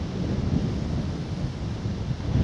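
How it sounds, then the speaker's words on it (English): Gusty wind buffets the microphone on a countryside walk near Castle Acre in Norfolk, a steady low rumbling roar lasting throughout with no voices. "Wind's picking up, as you may be able to hear."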